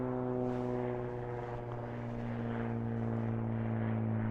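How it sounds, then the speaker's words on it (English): A plane passes overhead on a cold January morning, a steady droning hum with strong sustained engine tones that holds level and slightly swells toward the end, heard alone outdoors. "We'll get the plane going over, shall we?"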